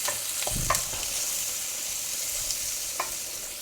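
Green chilies and onion hit hot oil in a wok, giving a steady, close hiss of frying with a few stirring scrapes and clinks near the start and one more around three seconds in.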